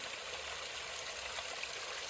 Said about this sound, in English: Now you got a waterfall.